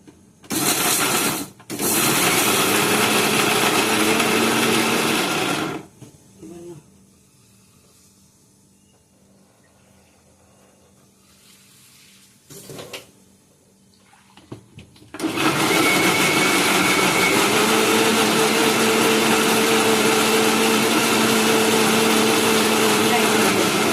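A kitchen mixer grinder grinds ingredients in loud, close bursts, with a short pause after the first, a quiet gap in the middle, then a long final run.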